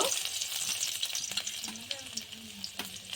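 Chopped garlic sizzling in hot mustard oil for a vegetable momo filling, a soft, steady crackle with small pops and light stirring close by.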